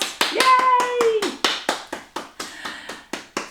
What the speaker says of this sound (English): give yourselves a really big round of applause